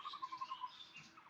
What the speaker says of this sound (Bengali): বসন্তকালে পাখির ডাক শুনতে যে কি সুমধুর শোনা যায়